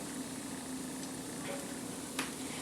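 Hoddeok, Korean filled pancakes, browning in a pan with a steady, gentle sizzle of frying, plus a faint click or tap partway through.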